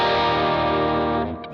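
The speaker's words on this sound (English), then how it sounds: "That's with the distortion pedal." Electric guitar played through a Line 6 Helix LT modelling an AC30-style amp with amp drive and a distortion pedal engaged, giving a loud, sustained, saturated chord that rings steadily and then cuts off near the end.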